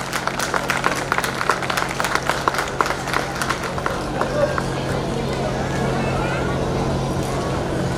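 Applause at a 2019 Dr. Ambedkar Jayanti function greets an award recipient, dense clapping from a crowd strongest in the first few seconds, then thinning into a steadier murmur of noise.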